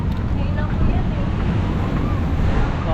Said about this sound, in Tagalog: Nakas yung alon.